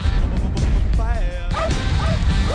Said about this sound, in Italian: Bolt, abbaia!